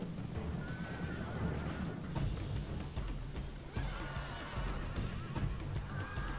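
Cavalry horses in a strategy video game battle neigh and whinny at moderate distance, several calls rising above a dense, noisy battle din with scattered impacts, faint overall.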